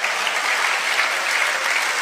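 An audience in a church service claps together, a dense, steady burst of applause that fills the whole moment without any voices over it.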